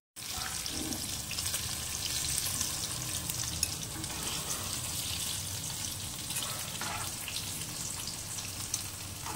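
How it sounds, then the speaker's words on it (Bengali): Cubes of paneer sizzle and crackle in hot oil in a home kitchen while biryani is being made, a continuous close frying hiss with occasional stirring clinks and no talk. "তো পনিরগুলোকে আমি দেখো ঠিক এইভাবে ফ্রাই করে নিলাম।"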